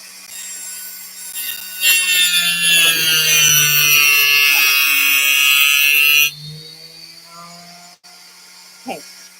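A power tool whirs loudly and steadily for about four seconds during a home craft project, then cuts off, leaving quieter room sound with a brief click near the end.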